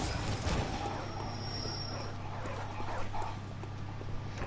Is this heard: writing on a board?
no